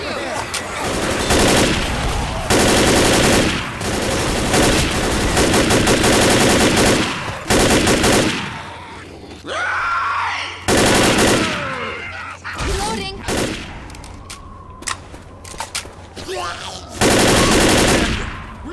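Gunfire in the video game Left 4 Dead: long loud bursts of rapid automatic fire alternate with short pauses, and a voice speaks briefly in the gaps.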